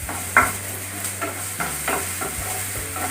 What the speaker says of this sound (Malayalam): ചെറുതായിട്ട് ഒന്ന് കളർ മാറുന്നവരെ ഇളക്കി കൊടുക്കണം